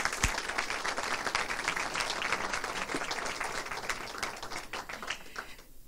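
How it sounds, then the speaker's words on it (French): Audience applause for a speaker at an executive education live class, a steady, moderately distant patter of many hands with a few sharp individual claps, thinning toward the end. "Je crois qu'on peut vous applaudir."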